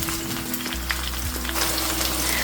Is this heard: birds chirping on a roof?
no